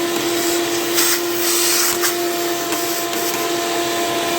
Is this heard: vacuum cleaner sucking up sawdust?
yes